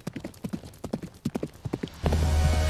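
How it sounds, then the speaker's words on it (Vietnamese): Horse hooves clip-clopping at a steady trot, sharp distinct hoofbeats growing nearer, then a loud steady wash of wind or noise takes over near the end. "Tiếng lóc cóc gió ngựa từ đâu đó nghe rõ dần."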